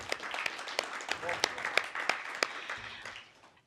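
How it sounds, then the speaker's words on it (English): An audience at a green business networking event gives scattered applause for the sponsors, a run of sharp individual claps that thins out and fades toward the end. "so big applause to all of them."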